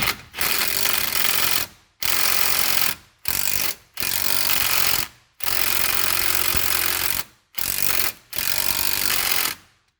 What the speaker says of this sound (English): Now you can go ahead and run it off with a impact driver.